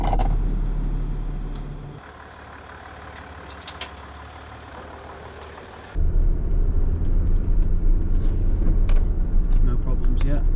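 A Land Rover engine rumbles steadily on a test drive, with a cabin drone that drops and then swells louder as it accelerates while a person talks over it.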